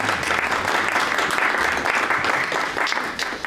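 Audience at a legislative breakfast applauding in a room, a dense steady wash of clapping that holds at even loudness throughout.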